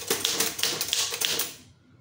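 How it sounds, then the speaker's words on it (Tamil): Keys struck on a Tamil typewriter, about six or seven crisp, close clacks in a quick, even rhythm, fading into quiet at the end. "இப்போ பெறுநர் வந்து டைப் பண்ணியாச்சு."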